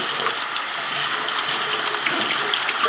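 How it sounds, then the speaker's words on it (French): Lukewarm water runs steadily over sprouted seeds being rinsed in a jar, a continuous hissing splash with faint clinks, close and even for the whole stretch. "Il faut les rincer un peu à l'eau tiède, là comme ça."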